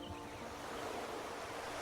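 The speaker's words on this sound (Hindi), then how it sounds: "अब अपने पैरों तक पहुंचने वाली लहरों को महसूस करें।" Ocean waves wash steadily onto a shore, a soft continuous surf wash at a distance, with a faint tone fading in briefly at the start.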